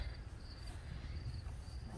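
Grasshoppers chirp steadily in a garden, a thin continuous buzzing trill at moderate distance over a low rumbling background, with no voices.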